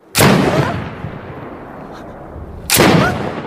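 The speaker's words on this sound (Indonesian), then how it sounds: "memberikan sebuah tembakan untuk terakhir kalinya" Two loud, sharp gunshots in a film, about two and a half seconds apart, each cracking out and then rumbling away into a long echoing tail.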